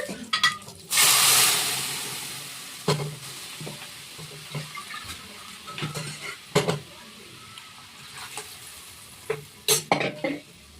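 Plain dal hits hot tempered oil in a pan with a loud burst of sizzling, followed by a run of stirring and scraping knocks against the pan and a softer continuing fry, with no one talking.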